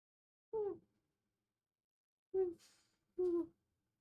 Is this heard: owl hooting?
yes